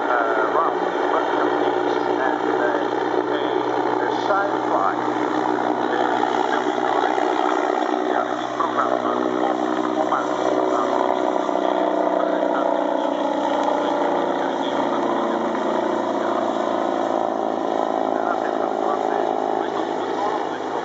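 A continuous loud engine and rotor roar from an Agusta A-129 Mangusta military helicopter at an airshow dominates throughout, steady and close, with a voice speaking over a loudspeaker.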